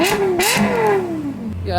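A Japanese car engine revs in normal drive mode, one rising and falling rev sweep, close and loud, with a person talking over it.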